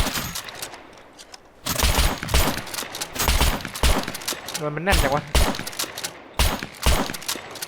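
Rapid bursts of gunfire in the video game SCUM crackle and pop in quick volleys while someone talks in Thai over the shooting.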